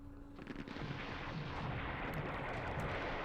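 Mortar shells firing and impacting in the wargame Campaign Series Vietnam, set around Dien Bien Phu, a dense sustained rumble of booms and blasts filling the whole clip at steady loudness with no talking.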